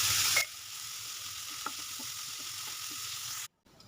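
Capsicum, cabbage and carrot with a little salt fry in hot oil, a steady close sizzle with faint ticks and scrapes before the sound cuts out abruptly near the end.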